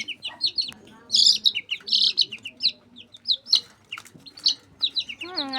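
Chicks chirp in rapid, high bursts close by while a guarding hen stays near the brood, with a soft low murmur underneath throughout.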